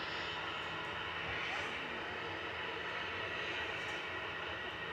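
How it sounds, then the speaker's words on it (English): Aer Lingus airliner bound for New York taxiing out at Manchester Airport, a steady, loud broadband engine roar holding for the whole stretch with no break. "We got the Aer Lingus to New York taxiing out."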